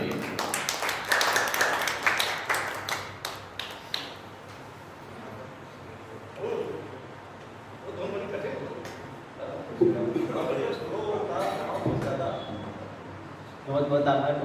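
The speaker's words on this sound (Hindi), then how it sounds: "जोरदार ताली बजा लो इसके लिए।" A burst of audience clapping for a bhajan singer fills the first few seconds, fading into quieter room noise with scattered voices and a brief return of clapping at the end.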